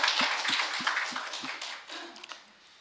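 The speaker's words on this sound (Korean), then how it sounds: "박수 합시다." Sparse clapping from a church congregation during a Korean service thanking volunteers, a handful of distinct claps in a loose rhythm fading out, fairly faint, with no talk.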